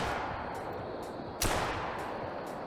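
A single sharp shotgun blast fired at bobwhite quail during a hunt, sudden and loud over a steady rushing outdoor background, with no voices.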